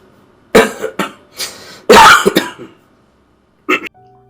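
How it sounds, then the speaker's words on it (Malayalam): A person coughs several times in quick harsh bursts, close by, then pauses and gives one more short cough near the end. "നിങ്ങൾ ഈ ചുമപ്പൊ വീണ്ടും തുടങ്ങിക്കണല്ലോ"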